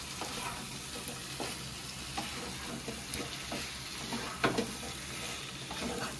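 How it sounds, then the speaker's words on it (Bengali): Kashmiri aloo dum with ghee is stirred with a spatula in a wok, giving a steady close sizzle with soft scraping strokes throughout and no speech. "এবারে একবার খুন্তি দিয়ে নেড়ে নিচ্ছি।"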